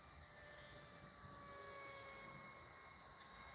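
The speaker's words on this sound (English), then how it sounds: "Somebody's got a model airplane over there." A model airplane engine whines far off outdoors as a thin, steady high drone, faint and distant, held for the whole stretch with no voices.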